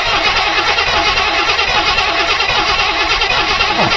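A 1974 Buick Riviera's 455 V8 cranks over on the starter, a loud, steady, rhythmic churning that continues without catching for the full stretch.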